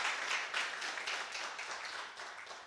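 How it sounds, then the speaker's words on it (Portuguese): A Brazilian church congregation applauds after a conversion testimony, a soft, steady rush of many people clapping together, somewhat distant and fading slightly toward the end. "Vamos aplaudir a Jesus pela vida do Leno"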